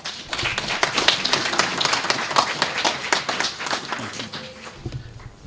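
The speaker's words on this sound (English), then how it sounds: "Please applaud as the speaker takes his seat" Audience applause at a fatherhood convention, with dense, sustained clapping from many hands that holds steady and thins slightly toward the end, and some voices mixed in.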